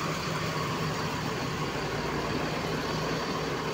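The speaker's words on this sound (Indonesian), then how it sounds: "Untuk sambungan mesinnya nyala." An ALS 168 Pelor Toba bus engine idles with a constant, even rumbling drone that stays at the same level throughout, with no talking.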